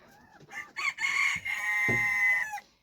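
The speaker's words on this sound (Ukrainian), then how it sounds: "це співає мій самий великий півень в хазяйстві" A large rooster crows loudly and close by, a long drawn-out call with a rising start, preceded by a few shorter squawks.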